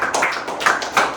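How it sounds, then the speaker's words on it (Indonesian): Classroom applause for a student group in an eighth-grade religious tolerance lesson: a short burst of many hands clapping together, fairly close, with a few swelling peaks and no talking. "tepuk tangan untuk kelompok 2"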